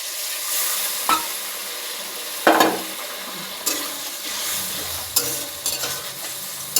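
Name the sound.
lukewarm water added to sizzling ridge gourd curry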